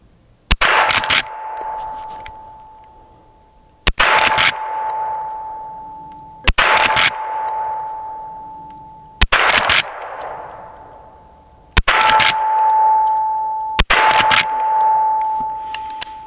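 Marlin 1894 CST lever-action rifle fired six times at steady intervals of a couple of seconds, each loud report followed by a ringing metallic ping from a struck steel target.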